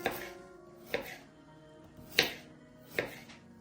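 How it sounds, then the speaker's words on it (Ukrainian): Knife chopping carrots into thin rounds on a cutting board for a baked mackerel dish, four sharp separate thuds at uneven intervals, close and clear with no talk. "морку нарізаємо тоненькими кружечками."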